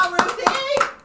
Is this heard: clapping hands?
yes